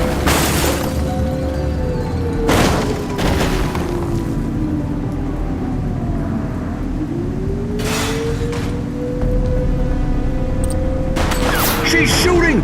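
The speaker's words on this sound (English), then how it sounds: "Shots fired!" Gunfire during a gang raid in the police video game The Precinct: loud, sharp shot bursts and booms at intervals over continuous game noise and siren-like wails, with radio-style voice chatter.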